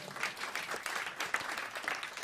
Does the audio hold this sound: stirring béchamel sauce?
no